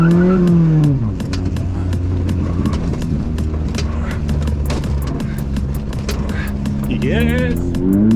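An old Honda-powered Mini and a new turbocharged Mini race side by side, engines revving hard and rising in pitch as they accelerate from a standing start, loud and close with gear changes throughout.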